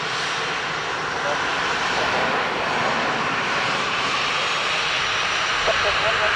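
An aircraft landing on runway 28 left at Dublin Airport gives off a steady, broad jet roar that holds at a constant level throughout, with voices heard faintly beneath it.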